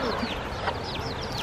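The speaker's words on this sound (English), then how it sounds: "first we have to get by the chicken parade to get to the car" Chickens cluck in a short burst outdoors on Kauai, a few hens calling close by in scattered, overlapping notes over steady background noise.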